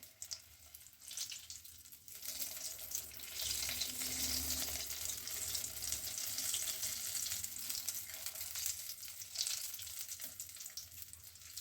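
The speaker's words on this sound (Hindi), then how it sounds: "थोड़ा और लो पे इसको पकने देते हैं" Butter curry with vegetable kofta cooks on low heat, giving a steady, close sizzle and soft bubbling that runs unbroken throughout, with no voices.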